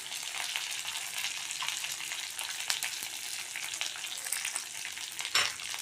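Asafoetida and turmeric powder fry in hot oil as they are stirred together for mango rice, giving a steady, close sizzle with light scraping and one sharper clink near the end.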